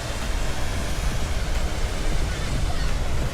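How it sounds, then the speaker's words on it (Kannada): Waterfall seen on the road toward Bengaluru, a continuous broadband roar of rushing water, loud and steady throughout with no pauses. "ಆನ್ ದ ವೇ ಬೆಂಗಳೂರಿಗೆ ಬರ್ತಾ ಒಂದು ವಾಟರ್ ಫಾಲ್ ಸಿಗುತ್ತೆ"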